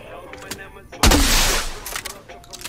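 A single loud burst of gunfire in an arena-style trios video game, sharp and close, fading into a short noisy tail after quieter game sounds.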